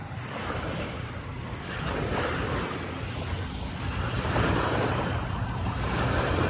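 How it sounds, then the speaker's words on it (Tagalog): Surf washes continuously along a wide beach shoreline at low tide, a broad steady roar of waves with gusts of wind buffeting the microphone. "Ayan, so binabaybay natin yung shoreline ngayong hapon."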